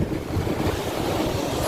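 Steady roar of surf and breaking waves on a summer beach, with wind buffeting the microphone throughout; broad continuous wash with no voices.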